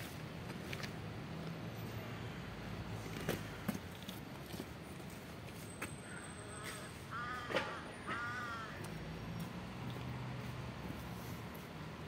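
Crow caws outdoors, a few harsh repeated calls at moderate distance over steady background noise, with a short series of caws near the middle.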